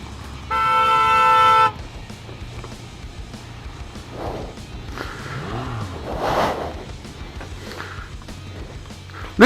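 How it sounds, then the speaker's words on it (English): A car horn blares in one sustained, loud blast lasting about a second, followed by road traffic noise, a creaking mechanical sound and a short vehicle pass nearby. "then started honking aggressively"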